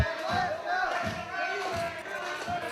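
Wrestling arena crowd at an American Wrestling Alliance TV match roars and cheers steadily, with rhythmic thumps and shouts suggesting the fans responding as a wrestler calls for noise.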